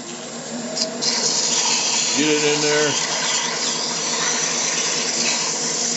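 Sandpaper rasps in a continuous loud hiss against a spinning piece, with a brief squeal partway through and someone talking at the start.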